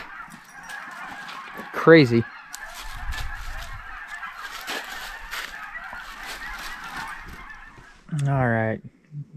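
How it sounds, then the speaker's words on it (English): Geese honk loudly in a few bursts over a constant chattering din of hundreds of birds at a winter campsite, with a short word spoken in between. "There's hundreds of geese."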